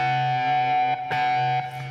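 Electric guitar through fuzz and distortion, holding a thick, buzzing sustained note that shifts pitch slightly, with a short break and re-attack near the middle, loud and alone.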